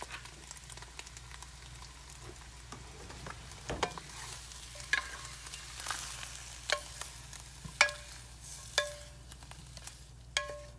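Eggs with potato cooking in a very hot iron skillet give a soft continuous sizzle and fry, with scattered small pops and ticks throughout, close and moderately quiet, with no talking.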